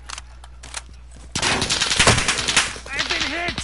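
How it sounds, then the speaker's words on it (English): Rapid automatic gunfire in a PS4 shooter game bursts in loudly after a quieter opening with faint clicks, sustained crackling shots with whizzing effects and a brief voice under the din. "Taking fire."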